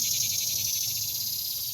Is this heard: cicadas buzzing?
yes